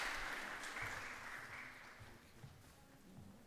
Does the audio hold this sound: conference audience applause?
yes